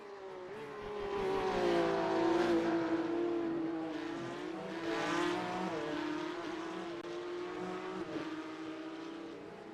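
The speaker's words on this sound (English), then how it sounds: "I want to listen to the cars." Porsche Cup race cars roar past on a track, engines rising and falling in pitch with revving bursts, fairly loud and continuous with no talking.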